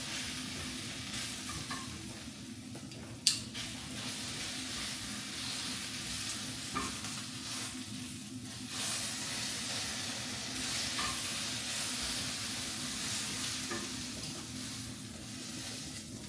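Potato frying in a pan ahead of an egg being added, with a steady close sizzle and crackle running throughout, one sharp clack near the start and no talking.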